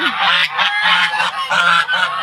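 Geese honk repeatedly and loudly close by in a garden setting, a dense overlapping flock chorus with steady calls throughout and no talking.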